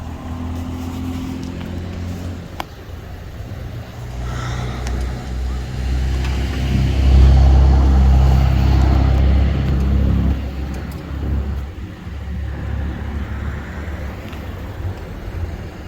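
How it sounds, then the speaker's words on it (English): Police cars sit running outdoors, their engines giving a low, steady idle rumble that swells louder for a few seconds mid-stretch, with faint background noise and no clear talk. "Down here, they got their cars running out here."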